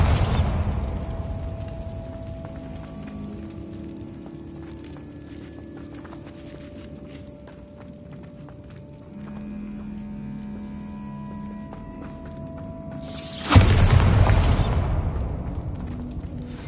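A single loud, booming Bombarda blast spell explosion erupts in Hogwarts Legacy near the end, after a stretch of quieter game ambience and tones.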